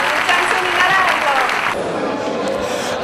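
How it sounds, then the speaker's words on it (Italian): An audience at an award ceremony for Mediterranean culture in Cosenza applauds a prize winner, producing a dense wash of clapping that fades toward the end with voices mixed in. "E lo prendiamo con un applauso"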